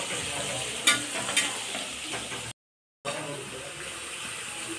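Eggplant fries in a pan with a steady, moderately loud sizzle, punctuated early by a couple of sharp clinks, broken by a short silent gap before the hiss resumes.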